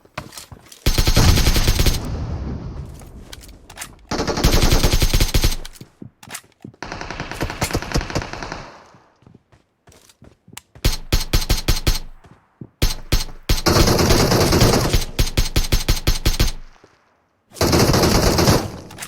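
Bursts of automatic gunfire in the PUBG Mobile video game, an opponent spraying rounds in several long, loud, rapid volleys separated by brief pauses, with no voices between them.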